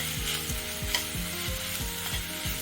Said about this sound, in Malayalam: ഈ ഉള്ളി ഒന്ന് വാടുന്ന വരെ നമുക്കത് മൂപ്പിച്ചെടുക്കാം.